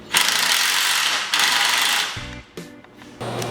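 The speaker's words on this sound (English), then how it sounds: "you can take an 11mm socket and tighten your clamp while providing pressure on the muffler to hold it into place" An 11mm socket on a ratchet tightens an exhaust clamp on a 2008-2016 Honda CBR 1000 motorcycle, giving close, loud bursts of rapid clicking with short metallic knocks between strokes.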